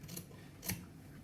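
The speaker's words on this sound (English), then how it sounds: "I'm just going to eyeball it just with my scissors" Scissors snip through fabric for a maintenance log book, two quick crisp cuts with a short quiet gap between them, close and fairly soft.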